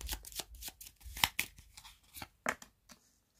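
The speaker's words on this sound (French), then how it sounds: "je vais commencer par tirer un arcane majeur du tarot pour compléter le tirage des charms" Tarot cards being shuffled by hand before a major arcana is drawn, a few quick close riffles and slaps in short bursts, quiet and alone with no talking.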